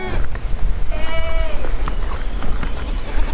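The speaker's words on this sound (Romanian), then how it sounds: "avem 5 capre pe care le mulgem în momentul de față" A single short goat bleat rises from a small household farm among background noise, with faint livestock sounds around it.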